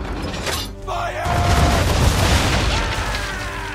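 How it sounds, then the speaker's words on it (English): Ship cannons fire at an enemy vessel's bow during a naval battle in Assassin's Creed 3, a heavy boom and crash that swells into a sustained loud rumble of debris and splintering across the whole stretch. "Now, aim all guns at her bow and do as much damage as possible."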